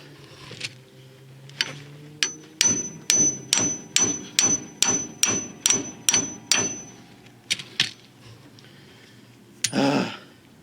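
A hammer strikes a panhard bar bushing on a Chevy Impala, about a dozen loud, close metallic blows landing in a quick, steady rhythm, followed by a few scattered knocks and a brief clatter.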